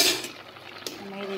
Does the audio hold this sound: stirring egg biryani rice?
yes